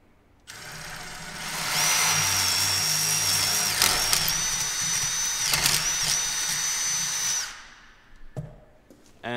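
A power drill boring with a quarter-inch bit during a Jeep TJ quick-disconnect install, a loud steady high whine for about six seconds that winds down, followed by a few brief clatters.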